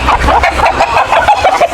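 Hens at a gamefowl farm clucking close and loud, a quick run of repeated clucks and calls overlapping each other.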